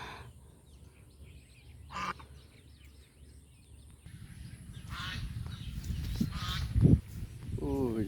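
Geese, king ducks on a farm, honk loudly and repeatedly in the second half, harsh nasal calls close by over rustling and faint background noise, after a quieter opening with a brief thump.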